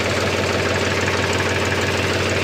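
A Mahindra 265 DI tractor engine runs steadily at idle, a loud, close, continuous diesel chug with an even knocking rhythm and no voices.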